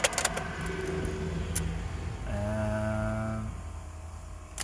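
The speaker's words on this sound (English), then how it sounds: "a truck goes by" A truck passes outdoors, a loud rumbling engine with tonal drone that swells and fades over a few seconds.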